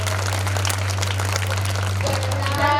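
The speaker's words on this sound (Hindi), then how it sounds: "जोरदार ताली बजाइए आप लोग" A live audience claps steadily at a Hindi stage show, the broad crackle of hands sitting over a loud, constant electrical hum, with a brief tonal sound near the end.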